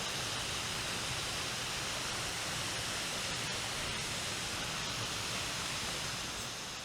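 Waterfall at a private onsen in Osaka, a steady, dense roar of falling water that fills the whole clip at close range, constant in level with no voices over it.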